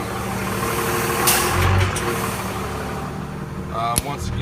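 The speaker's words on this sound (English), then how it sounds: "So there you can hear the brake come on and off." A big rig truck idles steadily while its air brake comes on and off, giving two sharp hissing bursts over the low, rumbling engine nearby.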